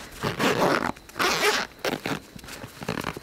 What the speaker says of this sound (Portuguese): Olha a qualidade do zíper, ó.